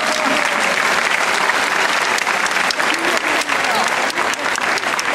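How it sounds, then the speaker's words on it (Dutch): Dense, steady applause fills the room as a school circus show audience claps loudly and continuously, close and uninterrupted. "ik heb nog niets gedaan en krijg je een applaus"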